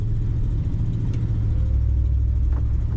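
A 1956 Cadillac Coupe DeVille engine idling smoothly, a steady low rumble that holds even throughout without revving.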